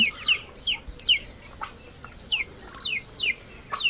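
Chickens clucking with short chirpy calls from a rooster, scattered in bursts over a quiet outdoor background.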